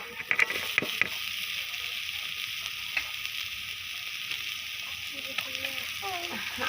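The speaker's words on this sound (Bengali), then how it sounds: "ভালোভাবে মশলাগুলোকে কষিয়ে নেবো সেদ্ধ করা মাংস আলুটা দিয়ে দেবো" Spices frying with boiled meat and potato as spring roll filling, a soft steady sizzle in the pan broken by sharp clinks and taps of a spoon stirring against metal.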